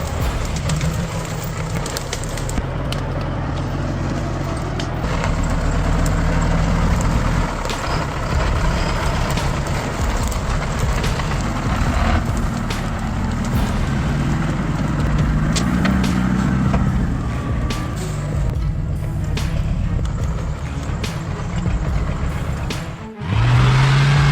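Heavy off-road trucks hauling raw acacia wood over harsh roads, engines droning loudly and continuously with rumbling, clattering bursts and a brief hiss near the end.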